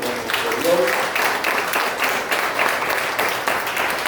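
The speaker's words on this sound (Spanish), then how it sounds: "Démosle una ofrenda de aplauso a nuestro Dios" Congregation applause offered to God during a church Bible study service, a moderate rolling clatter of many hands, with voices heard through it.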